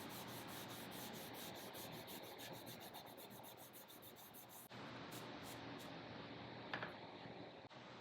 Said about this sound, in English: After 24 hours, I sanded things smooth with 320 grit sandpaper